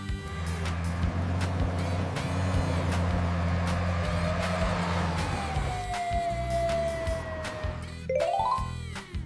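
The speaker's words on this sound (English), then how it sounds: "This is a snow ambulance." Tracked, ski-equipped snow ambulance in extreme winter conditions: a steady low engine drone with a siren tone sliding and wailing over it, ending in a rising electronic yelp, loud and continuous throughout.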